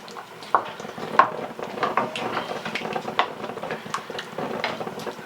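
A spoon stirring shrimp and sausage gumbo in a pot: soft, irregular scraping and clinking against the pot's sides, fairly quiet and close, with no voices.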